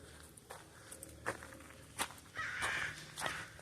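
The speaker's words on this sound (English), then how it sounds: "Here come our crows again." Crows cawing outdoors on a cold day, a few harsh calls rising over soft footsteps, with one longer, louder burst of cawing near the end, fairly close and not masked by talk.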